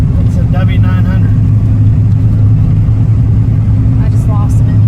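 A Kenworth W900 truck hauling a lowboy trailer approaches with a loud, steady low diesel rumble that holds constant throughout, while a person talks briefly over it.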